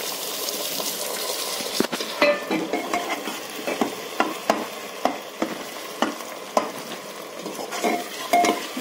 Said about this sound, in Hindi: अब मैं इसमें अपने चौक किए हुए टमाटर ऐड करूँगी